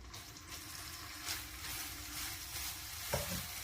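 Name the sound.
stirring coconut into sugar syrup for coconut candy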